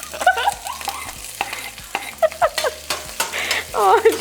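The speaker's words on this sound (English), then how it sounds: "we're going to add half an onion and 1 jalapeno" Half an onion and a jalapeno hit hot butter in a pan and fry, with a steady sizzle under repeated stirring clatter and scraping, close and fairly loud.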